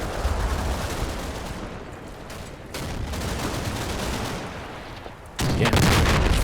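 Sustained area fire rolls on as a continuous, dense crackle of distant gunfire and rumbling bursts in a World War II Normandy battle in Combat Mission, swelling louder near the end.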